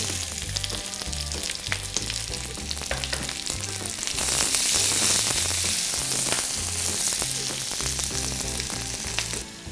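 Red and green capsicum fry in a pan for honey chilli broccoli, giving a steady loud sizzle with bursts of stirring and scraping throughout.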